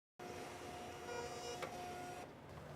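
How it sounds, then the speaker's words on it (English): A label printer linked to a Helium 1 µL spectrophotometer prints a sample printout: a close, quiet, steady mechanical whir lasting about two seconds before it stops. "I will tap the printer icon, and I should be seeing a printout"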